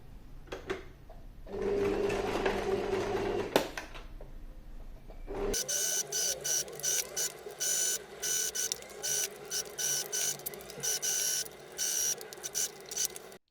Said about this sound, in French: on passe un point au plus près de la fermeture